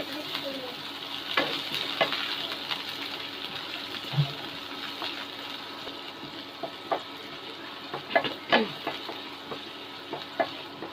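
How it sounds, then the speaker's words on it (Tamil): Onions fry gently in oil with cumin for a vendakkai (okra) poriyal on an electric stove, a soft steady sizzle broken by occasional clicks and light stirring scrapes of a utensil in the pan. "இந்த லைட்டாக வெங்காயம் வதங்கட்டும்."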